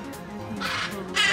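Birds call at a small mini zoo, giving a few short, harsh caw-like cries that rise above a steady background of chatter and ambient noise.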